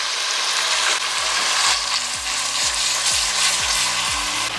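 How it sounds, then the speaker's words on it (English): Steady, loud sizzling of food frying in a covered stew pot, with a dense hiss throughout and rhythmic low scraping pulses as the contents are stirred. "So now let's cover it and let it fry away"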